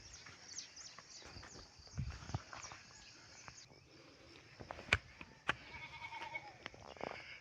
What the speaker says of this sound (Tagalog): Dito na ako sa mga alaga kong kambing.